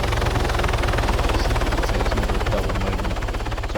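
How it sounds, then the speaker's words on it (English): A video game helicopter hovers overhead with a loud, steady rotor thrum that pulses evenly throughout, alone with no talking. "I've got a helicopter above me who's going to engage me in a minute"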